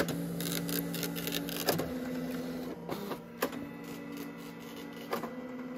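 The built-in printer of a 1985 Panasonic Executive Partner portable computer prints line after line: a soft, whirring mechanical buzz punctuated by sharp clicks and clunks as the carriage moves, quiet and close.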